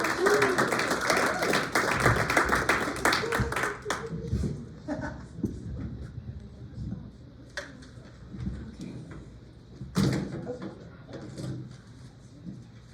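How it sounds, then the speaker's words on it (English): Audience at an installation meeting breaks into a round of applause, a dense burst of clapping that thins out into scattered claps and light taps, with room noise and some voices after. "big round of applause for"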